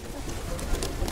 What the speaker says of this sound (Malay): Boleh bagi burung-burung kat sini.